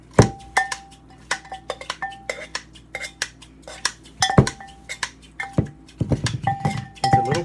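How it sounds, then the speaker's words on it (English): A handheld salad chopper clacks and clinks repeatedly against a bowl, sharp irregular metallic strikes in quick succession with a busier cluster of chops near the end, close and without talk. "So I'm just chopping it up."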